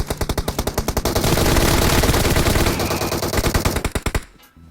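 Rapid automatic gunfire from PUBG Mobile bursts loud and close in a continuous rattling stream, starting as distinct shots, merging into dense fire, then breaking back into separate shots before stopping abruptly.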